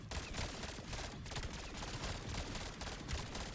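Rapid bursts from the 9 Maverick burst weapon in the video game Black Ops 7 Zombies, a dense and continuous volley of loud, closely spaced gunshots.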